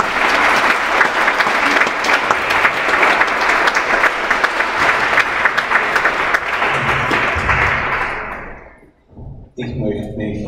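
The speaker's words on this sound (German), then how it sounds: "Klatschen Sie!" Loud, dense applause from a seated audience at a German salon discussion evening on calm living, sustained for about eight seconds before tapering off, followed by a few scattered sounds and a voice resuming.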